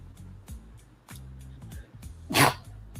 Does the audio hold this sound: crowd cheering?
no